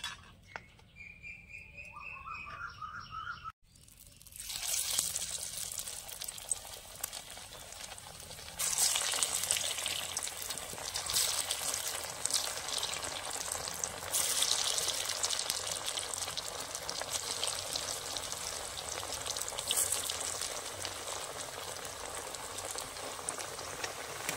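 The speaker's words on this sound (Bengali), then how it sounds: "কড়াইয়ে তেল গরম হয়ে গেছে, এখন আমি নাস্তাগুলো ভেজে নেব" Snacks deep-frying in hot oil in a wok over medium heat, a dense continuous bubbling sizzle that starts abruptly after a few seconds of quieter sound and stays steady and close throughout.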